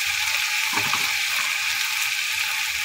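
Ground cumin and other spices sizzle in hot oil in a pan for a cauliflower dhoka dalna, a steady close frying hiss with a brief stirring scrape, no voices.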